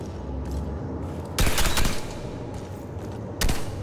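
A nano gun in Red Faction Armageddon fires in sharp, loud bursts: two heavy blasts stand out against a crackling, rumbling background of combat, with no talk.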